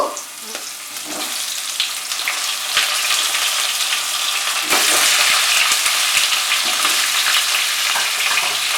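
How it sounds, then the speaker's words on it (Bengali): Pointed gourds (potol) fry in hot oil, with a steady loud sizzle that runs the whole time and grows more intense about halfway through, alongside faint stirring. "এবারে আমি পটলগুলো ভেজে নেব।"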